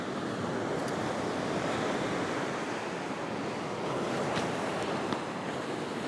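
Steady roar of breaking surf washing in at Curl Curl Beach, a continuous broadband rush with slight swells in intensity and some wind buffeting, no voices.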